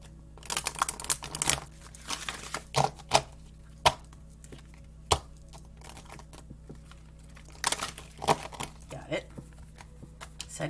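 Tarot cards riffle and snap in quick bursts, a few rapid flurries separated by pauses, with soft taps and rustling between them.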